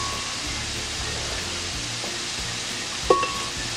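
Cooked tomatoes fry steadily in a pan with onion and garlic, giving a constant close sizzle and hiss, and one brief clink of a utensil sounds near the end.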